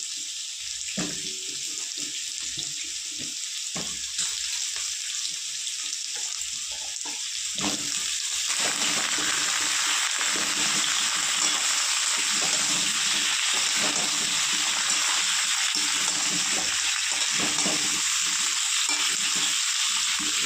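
Drumstick vegetable pieces frying in a pan for a mixed vegetarian dish, a steady loud sizzle that swells and stays dense throughout, with occasional soft stirring knocks underneath.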